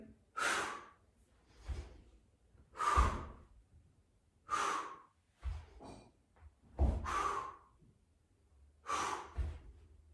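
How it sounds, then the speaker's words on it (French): Rapid, forceful breaths during a Pilates exercise, about eight close sharp exhales and gasps in an uneven rhythm with short pauses between them. "Les respirations sont rapides, hein, bien évidemment."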